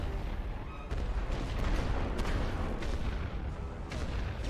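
An artillery barrage in the video game The Great War: Western Front rumbles on as a heavy, continuous roll of distant booms and gunfire, with several sharper blasts rising above the dense low thunder.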